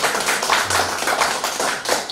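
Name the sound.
audience clapping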